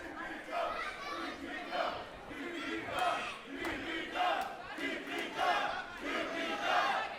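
Wrestling crowd at a Phoenix Pro Wrestling title cage match roaring and chanting in rhythmic surges, a dense, sustained cheer filling the arena.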